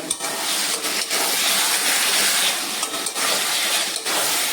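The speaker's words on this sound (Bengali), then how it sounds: "এই মশলার মধ্যেই আলুগুলো দিয়ে দিচ্ছি।" Potatoes fry in a spice mix in a pan for a home-cooked mutton meal, giving a loud, continuous sizzle with occasional stirring scrapes and clinks.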